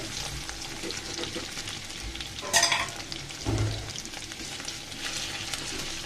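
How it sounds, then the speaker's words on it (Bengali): Potatoes fry in a pan on a stovetop with a constant low sizzle, broken by a couple of louder scraping stirs and clatters, and no one talks. "এই চুলার মধ্যে আমি আলুগুলোকে বেজে নিচ্ছি"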